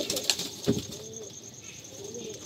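Pigeons in a home loft coo softly with a brief burst of wing flapping, close by and fairly quiet, with no talking.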